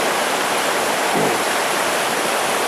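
Rushing white water of a river at Falls Village, Connecticut, a loud, steady, close broadband roar that stays constant throughout.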